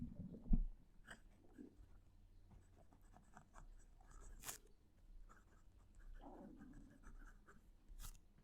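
A fountain pen with a fine nib, filled with Diamine Oxford Blue ink, scratching on Oxford Optic paper, heard as faint, close strokes and small scrapes in quiet, with one louder knock near the start.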